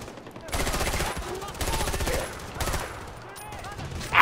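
Gunfire in the video game Far Cry 4, loud bursts of rapid shots in several clusters close by, ending with a sharp louder blast.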